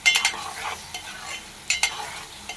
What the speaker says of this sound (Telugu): ఇప్పుడు రొయ్యలు వేసేసుకుందాం. రొయ్యలు కూడా మంచిగా మగ్గనిద్దాం.